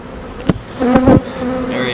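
Honeybees buzz close by at a hive as a marked queen is released, a steady insect drone with a few louder passing buzzes of single bees near the listener.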